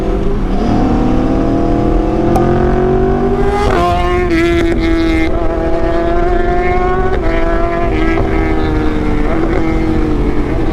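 A Royal Enfield Bullet motorcycle's loud engine revs and drones steadily as it rides away, its pitch rising and falling as it accelerates, sounding close and continuous throughout.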